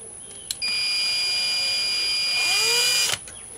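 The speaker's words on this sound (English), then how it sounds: "we're going to drill the pins or the plugs out for the pins" A power drill bores out the pin chambers of a Master 150 padlock, whirring at a steady high pitch for about two and a half seconds with a rising squeal before it cuts off.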